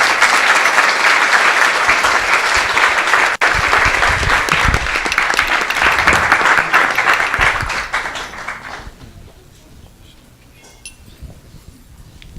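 Audience applauding at a Vyasa-puja ceremony: loud, sustained clapping from a full crowd for about nine seconds. It then fades out to a quiet room.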